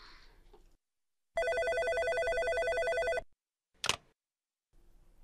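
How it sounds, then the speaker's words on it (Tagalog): An old-style telephone bell rings once, loud and steady for about two seconds, then a brief click follows amid near silence. "May tumatawag sa telepono."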